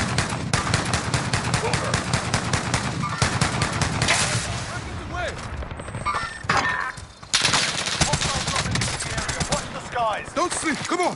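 Rapid automatic gunfire fills a video game firefight, dense bursts of sharp cracks in quick rhythm with short pauses, while voices call out over the shooting.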